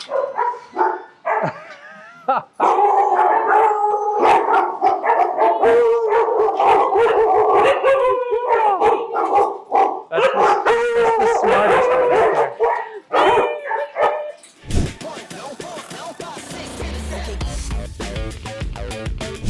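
Several dogs bark, howl and yip loudly in an echoing indoor doggy daycare, a chaotic overlapping chorus, with a person speaking briefly amid the noise.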